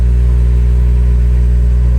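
A Honda S2000 engine, just started after an earlier no-start fault, runs at a steady, loud, close idle with a deep even hum and no break throughout.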